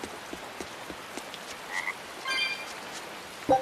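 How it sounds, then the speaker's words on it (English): Frogs croak in the game Tales of Berseria, with sparse, short croaks scattered through a quiet ambient bed, plus a brief chirping trill and a louder croak near the end. "That's a frog sound."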